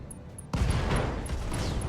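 Rapid sustained firing from an anti-missile system in the BattleTech video game, a dense crackling burst that starts abruptly and stays loud and steady to the end.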